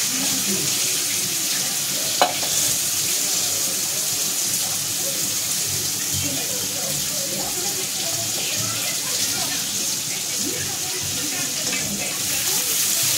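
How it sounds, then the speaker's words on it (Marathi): Brinjal frying lightly in a pan for a yellow-masala dish, a steady broad sizzle running throughout at moderate loudness, with a single sharp tap near the start and soft stirring scrapes now and then. "त्यानंतर आपण टाकायचे वांगे, हलके फ्राय करून घ्यायचे वांगे."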